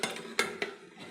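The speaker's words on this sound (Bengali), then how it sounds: "4 মিনিট পরে ঢাকাটা খুললাম।" A lid is lifted off a cooking pot of raw katla fish curry with a short metallic clatter, followed by a second lighter clink, close up and with no talking.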